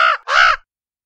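A raven gives two harsh caws in quick succession, loud and close, then falls silent with nothing else audible.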